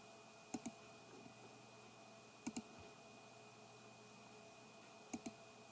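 A computer mouse clicks while a chart is being drawn, in three widely spaced quick double clicks over a steady low hum. The clicks are close and distinct, with no talking.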